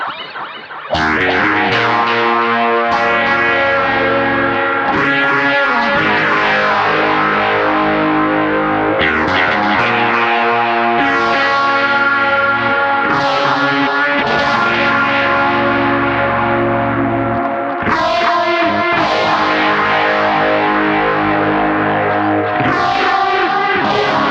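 Loud distorted electric guitar chords and riffs swirling with a phaser sweep from a Super Cool Pedals Trinophase and trailing analogue delay repeats, played continuously with no talking.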